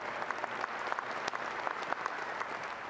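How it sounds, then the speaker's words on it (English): Applause from an audience at a press conference introducing a university basketball coach, a soft, fairly distant wash of steady clapping with a few sharper claps standing out. "just give a big round of applause."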